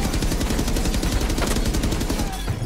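Rapid, dense gunfire from the video game Rainbow Six Siege, with sustained automatic bursts and crackling shots at close range throughout, loud and steady with no speech.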